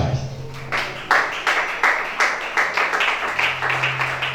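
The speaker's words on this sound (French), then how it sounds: "Acclamation." A church congregation clapping in rhythm, a run of loud, regular claps from many hands over a low sustained hum.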